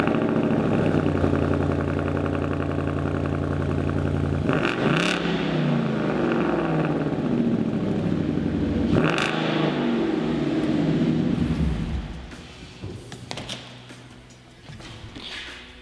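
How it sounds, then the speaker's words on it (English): A Ford Mustang with its stock exhaust starts from completely cold and settles into a loud, steady idle, with a couple of brief revs rising above the rumble before it drops off near the end. "let's get a stockish, factory basically start up, cold start, completely cold"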